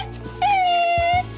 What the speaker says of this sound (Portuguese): O gemido é quase tão versátil quanto o latido, mas menos confiante.